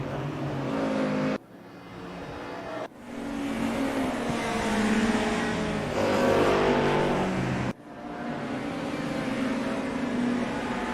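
Audi touring race cars from a DTM 1992 revival race at Zandvoort in a racing game, engines roaring and whirring loudly with abrupt cuts as the cars storm past close by.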